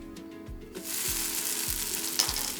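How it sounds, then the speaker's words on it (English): Keto psyllium husk chapatti sizzling in a very hot pan, a broad steady hiss that rises sharply partway through and continues close and loud, with a few faint low knocks underneath. "Nice sizzle."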